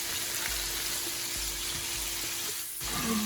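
Chopped frozen onions frying in a pan, a steady broadband sizzle with a low hum beneath, close and continuous, briefly dipping near the end before crackling on.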